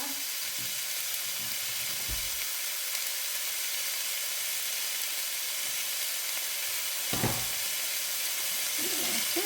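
Ground beef sizzles steadily in a pan with garlic for a Sunday meat sauce, a continuous close frying hiss with a couple of brief clinks or stirring knocks, no talking.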